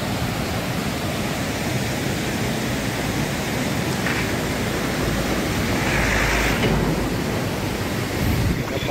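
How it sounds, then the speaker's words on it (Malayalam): Fast-flowing water surging under a small bridge by a waterfall, a continuous close roar that swells slightly in the middle and stays loud throughout, with no clear talking. "നല്ല കുത്തിച്ച് വെള്ളമാണ് പോകുന്നത്"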